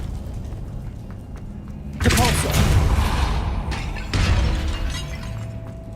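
A Depulso spell is cast in Hogwarts Legacy, a sudden forceful whoosh and shattering crash followed by a second impact burst, over a low ambient background.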